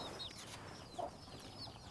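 Chickens cluck softly around a rural Thai home, brief high calls scattered over a continuous background murmur, moderately distant and not very loud.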